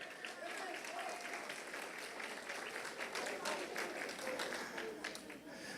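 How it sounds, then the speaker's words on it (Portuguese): Congregation applause in a church service, sustained crowd clapping heard faintly and at a distance, with a voice speaking faintly beneath it. "Vamos dar um aplauso bem forte para a irmã Vera?"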